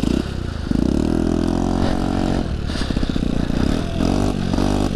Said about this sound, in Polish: Wydech fajny, tylko szkoda, że taki zamulony.